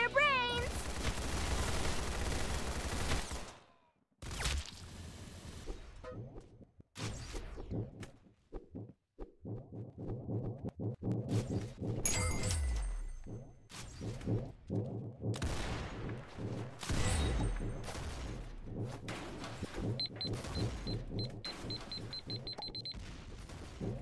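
Gunfire in a video game: dense, loud volleys and rapid shots with booming impacts, broken by brief gaps, with talk heard over parts of it.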